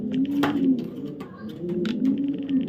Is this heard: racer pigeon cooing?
yes